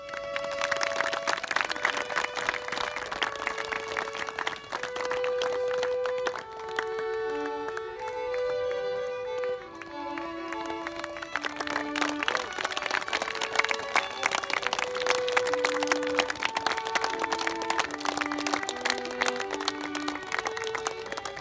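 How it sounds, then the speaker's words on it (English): Wedding guests clap for the newly married couple, a dense steady patter of many hands sustained throughout, with music playing over it. "please give them a round of applause"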